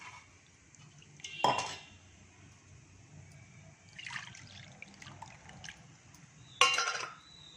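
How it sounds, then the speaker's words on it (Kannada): Tamarind juice is strained and pours, trickling into a metal pot in a few short bursts, with faint clinks of the vessel between them, fairly quiet. "ಇವಾಗ ಈ ಪಾತ್ರೆ ಒಳಗೆ ಸೋಸ್ಕೊತೀನಿ"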